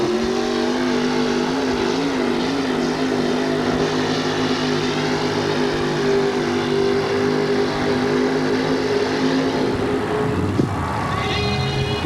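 A modified-class pulling truck, formerly a super stock, roars at sustained high revs while dragging a weighted sled at a 1987 indoor pulling event in Oakland, a loud steady engine drone that drops off abruptly near the end.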